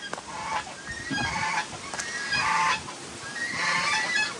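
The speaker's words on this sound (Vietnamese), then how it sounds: "nuôi gà, nuôi ngỗng." Geese honk repeatedly on a rural Vietnamese farm where chickens are also kept, their loud nasal calls coming in uneven bursts at moderate distance with no voices over them.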